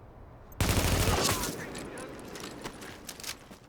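Gunfire in the video game Tom Clancy's The Division, a sudden loud burst of shots that rolls into a long decaying echo with a few softer follow-up cracks, while people talk over it.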